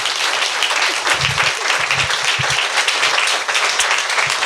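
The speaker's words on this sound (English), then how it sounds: "I think we should have a round of applause for Jhumpa and then questions" An audience applauds an author at a literary talk, steady dense clapping filling the whole stretch at close range with no voices over it.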